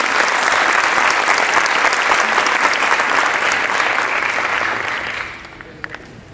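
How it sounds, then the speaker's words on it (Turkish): Concert audience at a Turkish classical music performance applauds health workers with strong, loud sustained clapping from a full hall, holding steady for about five seconds before tapering off abruptly into a few stray claps. "Ülkemizde göğüs göğüse mücadele eden fedakar sağlık çalışanlarımıza hep birlikte güçlü bir alkışla teşekkür edelim."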